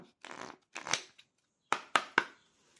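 Oracle cards are shuffled for a tarot reading, with a few soft rustling bursts followed by three crisp, close snaps in quick succession.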